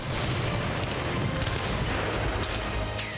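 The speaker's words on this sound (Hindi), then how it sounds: "ड्रोन पर मशीन गन से फायरिंग शुरू कर दी" Dense, continuous machine-gun fire rattles without pause at a drone in wartime, loud and harsh like rapid automatic weapons blasting together, with no voices heard.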